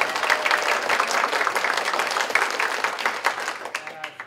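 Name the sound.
audience applauding the storytellers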